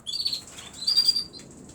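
Caged fledgling birds flutter and flap their wings indoors, soft papery bursts of wingbeats mixed with a few thin high chirps, faint and close, with no talking.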